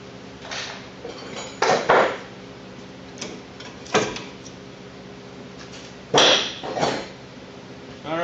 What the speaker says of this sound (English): Just want to pull those out of the holes that's in the brake pad. Slide your brake pads out.